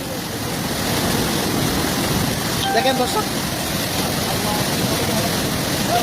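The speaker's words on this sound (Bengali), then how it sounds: "পানির বেগ কমছেই না বৃষ্টির কারণে অতিরিক্ত বৃষ্টির কারণে পানি বেগ বেরিয়ে চলেছে" Floodwater swollen by heavy rain surges through Jalalabad, a steady loud broadband rush that runs the whole time while someone talks over it.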